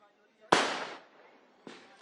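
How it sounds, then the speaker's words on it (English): Fireworks bursting outside the Chief Minister's residence during an ongoing celebration: a loud, sharp crackling burst that decays over about half a second, followed by a second, fainter burst, with faint voices in the background. "fireworks is already underway, Rahul, at CM's residence, and for last 10-15 minutes it's just non-stop"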